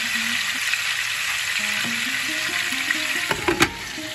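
Cucumber curry sizzling steadily in a covered pan, a continuous bright frying hiss with a few small pops and clinks toward the end, no voices.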